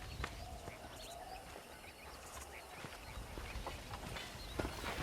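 Faint, steady horse hooves clip-clopping at a walking pace in the Western video game Red Dead Redemption on Xbox Series S, with light ambient outdoor sounds around them.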